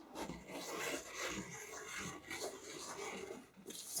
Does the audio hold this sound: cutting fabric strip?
yes